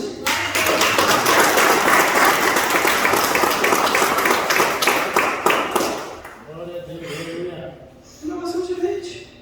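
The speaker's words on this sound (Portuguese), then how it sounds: "Você quer aplaudir Jesus?" A church congregation applauds Jesus during a Sunday Portuguese-language sermon, loud sustained clapping for about six seconds that fades out, with a voice speaking afterward.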